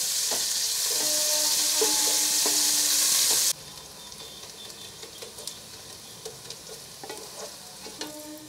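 Finely chopped onions, two medium ones, fry with cumin in a pan until golden. A loud, dense sizzle fills the first few seconds, then drops to a softer crackle with scattered stirring clicks and taps.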